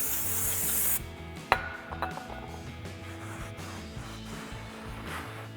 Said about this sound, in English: we're gonna wanna spray this down with some brake cleaner and wipe it off